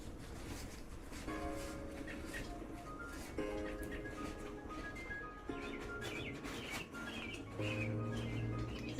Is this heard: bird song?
yes